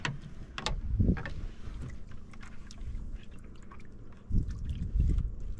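Water sloshes and laps against a small fishing boat, with wind buffeting the microphone and a few knocks of the hull, heard up close.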